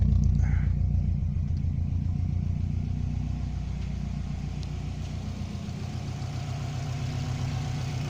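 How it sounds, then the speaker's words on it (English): A Subaru Impreza Classic GC8 RB5 2.0 turbo idles close by with a deep, pulsing exhaust rumble that stays steady and loud throughout. "nothing coming out of the exhaust except noise, which is what you want"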